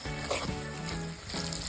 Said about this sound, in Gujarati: ટમેટાને આપણે સડવા દેવાના છે